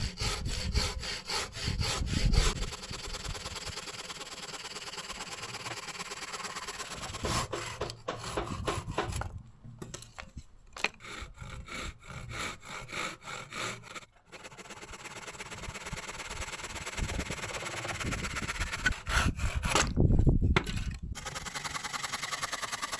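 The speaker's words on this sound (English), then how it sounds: "Just going to chop these with handsaw." A handsaw cuts through roof slates in close, rhythmic back-and-forth rasping strokes, with brief pauses between bursts of sawing.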